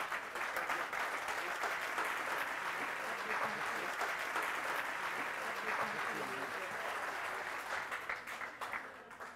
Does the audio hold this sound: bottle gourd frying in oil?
no